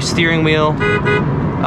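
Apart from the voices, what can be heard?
car horn honking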